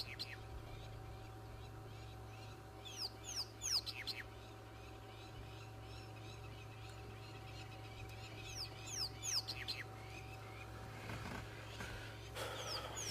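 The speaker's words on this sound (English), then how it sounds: "Just had crowned plovers coming over making a noise." Crowned plovers calling overhead during a safari drive, a series of sharp, high chirping cries in several bursts over steady vehicle engine hum and outdoor background noise.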